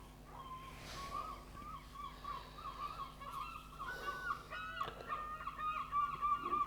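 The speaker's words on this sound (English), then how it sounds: "Don't know what those seagulls are going on about" Birds on a beach call in a continuous, wavering honking chorus at a distance, faint over a low steady background hum.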